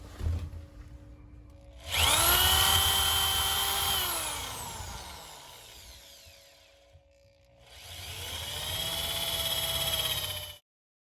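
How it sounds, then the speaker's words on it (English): A power drill bores into oak logs in two long bursts, its motor whining up and then winding down, with a short quiet pause between them. "So on to the drilling."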